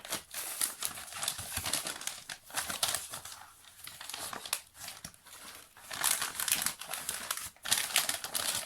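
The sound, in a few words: large envelope being opened, paper crinkling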